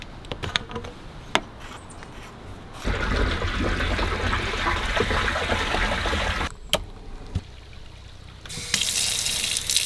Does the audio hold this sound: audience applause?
no